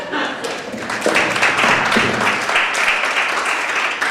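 Audience applause following a presentation, a steady wash of many hands clapping that holds at an even, fairly loud level for the whole stretch, with a little voice underneath.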